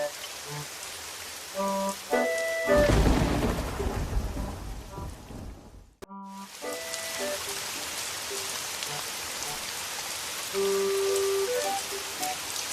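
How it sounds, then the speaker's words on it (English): A heavy rainstorm with a loud burst of thunder and rushing flood water in a creek, a dense steady wash under soft musical tones, cutting out briefly before the downpour resumes. "But the rain turned into a rushing flood"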